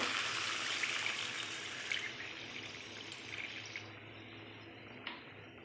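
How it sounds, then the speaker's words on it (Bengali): Water poured into a pan of vegetables frying in oil for an egg and paneer curry, giving a steady loud hiss and gurgle that slowly fades, with a few small splashes near the end. "সবজিটা দিয়ে এবার আমি পরিমাণ মতন জল দেব"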